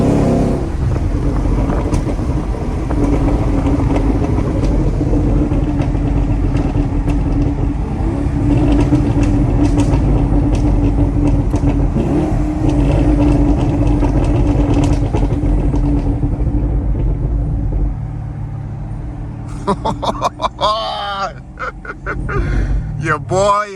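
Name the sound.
Chevrolet Camaro SS engine running after a tune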